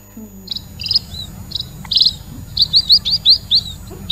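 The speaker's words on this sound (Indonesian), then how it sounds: "Itu suara burung loh." Bright, quick bird chirps repeat in bursts, speeding into a rapid run of tweets near the end, over a low background hum.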